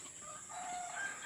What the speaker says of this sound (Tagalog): may ibon pa.